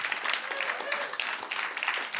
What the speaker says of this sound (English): Can we just give that a round of applause up again?